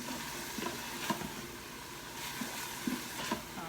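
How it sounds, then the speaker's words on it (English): Ingredients for ham and corn chowder sizzle in a pot, a soft, steady frying hiss with a few faint stirring clicks and no talk. "Sizzling away."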